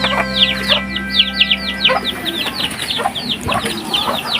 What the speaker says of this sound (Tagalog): Mga sisiyo, mga gutom na.